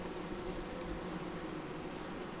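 Honey bees hum steadily on a brood frame pulled from a hive, a continuous close buzz with no talking over it.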